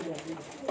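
A breeder's male pigeon gives a brief, low coo close by, with voices talking over it.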